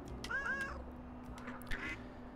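A cartoonish duck from the video game Little Kitty Big City gives a couple of quick quacks early on, then a softer squawk later, moderately loud over a steady game background hum.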